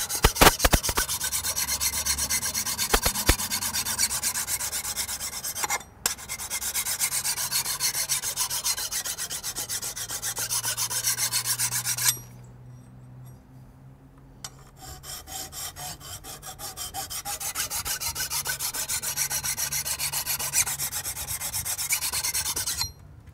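A hand file rasps along the edge of a garden tool to sharpen it to a 35 to 40 degree bevel. The strokes are close, loud and steady, with one brief pause near the middle and no talking.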